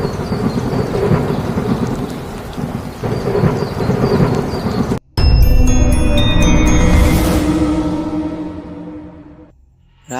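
Heavy rain pours steadily at night, then a sudden loud thunderclap booms and rolls away, fading slowly into near silence.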